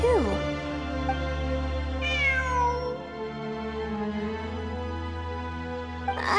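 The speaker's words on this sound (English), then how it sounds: "I'm not hearing things. It really is a cat." Cat meowing in the game Genshin Impact, several drawn-out, gliding meows over a steady ambient music bed, with a voice heard at the start.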